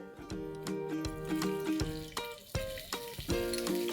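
Cinnamon, green cardamom, cumin and mustard seeds crackle in hot oil for a raw mango curry, with a light sizzle broken by sharp metallic clinks and spoon taps close by.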